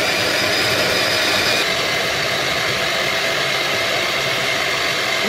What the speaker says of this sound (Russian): и мы начинаем взбивать